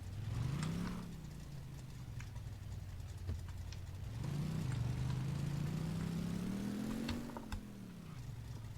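Lada Niva fitted with an inline-six engine, reversing in a garage: a steady low engine rumble with two swells of revving, one near the start and a longer one midway, close and fairly loud, with no talk.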